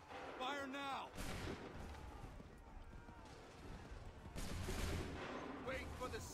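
Musket volleys fired on command in Assassin's Creed III battle: loud crashing bursts of massed gunfire near the start and again later, amid ongoing battlefield noise and shouted voices.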